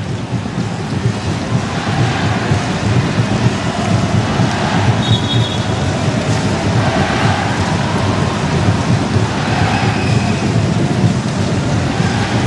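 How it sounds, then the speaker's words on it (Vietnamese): Steady rain pours over an open-air football stadium during a Vietnam–Thailand friendly match, a dense unbroken hiss with a low rumbling undertone throughout and no voices. "Trên sân lúc này đang có mưa."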